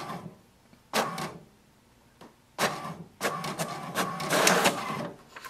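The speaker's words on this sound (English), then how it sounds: "Place the page in the rear paper tray and wait for printer to print the information" HP DeskJet 2755e printer printing an information page: bursts of mechanical whirring and paper-feed clatter, close and loud, separated by short quiet pauses.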